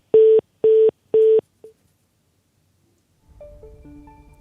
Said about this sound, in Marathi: पुन्हा एकदा आपण फोन लावण्याचा प्रयत्न करू